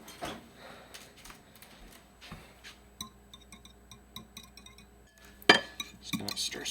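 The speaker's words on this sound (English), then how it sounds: "Just gonna stir, stir, stir." A utensil clinks and taps against a bowl in quick, light, rhythmic strokes while eggs are stirred, with quiet kitchen clatter around it.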